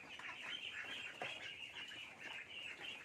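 Khaki Campbell ducklings, about 13 days old, give a steady stream of high, overlapping peeps and chirps from a small flock, continuous and moderately close with no pauses.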